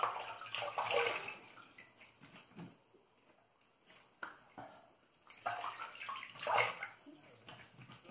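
Water running and splashing while shaving lather is rinsed from the face, two bursts of close tap flow and splashing separated by a quieter pause with faint dripping.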